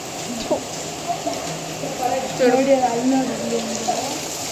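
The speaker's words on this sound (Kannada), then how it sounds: "ಮಳೆ ಮಾತ್ರ ಫುಲ್ಲಾಗಿ ಬರ್ತಾಯಿದೆ" Steady rain falling in a hilly countryside setting, a continuous wash of drops on surfaces with scattered louder patters, close and fairly loud, with faint voices and background sounds mixed in.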